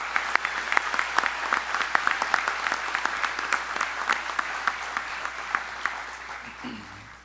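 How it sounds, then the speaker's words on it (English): Final round of applause for Elite 11 honorees at a Missouri Sports Hall of Fame enshrinement, a crowd clapping steadily with crisp individual claps standing out, tapering off near the end. "How about one last round of applause for our Elite 11 honorees?"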